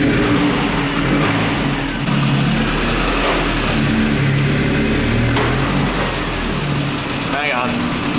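First-generation Toyota 4Runner engine running as the truck drives out of a garage, a steady close rumble with slight revving changes throughout.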